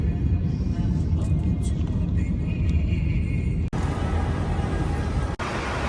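A car drives along a road on a family trip, heard from inside the cabin as a steady loud low rumble of engine and road noise with a couple of brief thumps, and faint talk early on.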